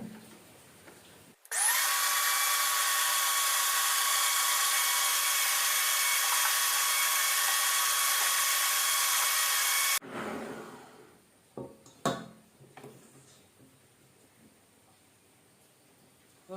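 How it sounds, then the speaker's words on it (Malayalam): An electric mixer runs steadily on slow speed for about eight seconds, beating sugar into an egg and vanilla mixture for tea rusk, a loud even whir that cuts off abruptly, followed by a few clinks and knocks against the bowl. "അത് അല്പാൽപ്പമായിട്ട് ചേർത്ത് കൊടുത്തൊന്ന് ബീറ്റ് ചെയ്തെടുക്കാം. സ്ലോ സ്പീഡിലിട്ട് നന്നായിട്ട് അലിയുന്നത് വരെ."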